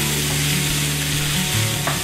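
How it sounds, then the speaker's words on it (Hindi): Onions frying in ghee to a golden brown give off a loud, dense, continuous sizzle close up, with a steady low hum beneath and no pauses. "प्याज को हमने गोल्डन ब्राउन होने तक भूनने देना है।"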